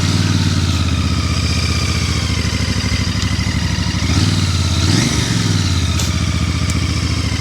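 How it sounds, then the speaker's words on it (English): A Royal Enfield Bear 650 parallel twin motorcycle idles close by after a fire-up, a steady throbbing rumble with slight clatter and small surges in revs midway, no voices heard. "I'll just give her a quick fire up."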